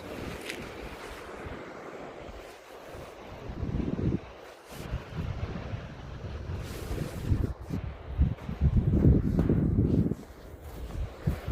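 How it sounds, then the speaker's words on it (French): A boat motor runs near the beach and harbour at Bastia, a steady low rumble under heavy wind buffeting the microphone, with no talk. "il a mis le moteur en route"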